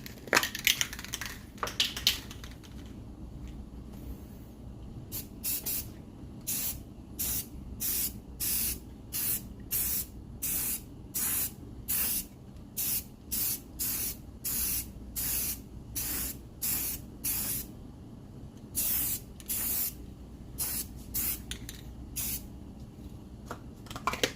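An aerosol can sprays a coating meant for metal and fiberglass onto a plastic keyless entry keypad part for a 10th-generation F-150, in a long series of short, sharp hissing bursts with brief gaps, close and fairly loud.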